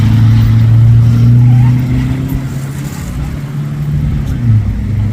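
A supercar accelerating on a street in Cannes gives a loud, low engine drone that rises and then eases off, heard close with someone talking over it.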